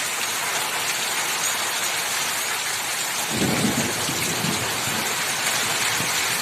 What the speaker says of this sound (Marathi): आमच्या गावाकडचा पाऊस तुम्हाला मी दाखवण्याचा प्रयत्न केलेला आहे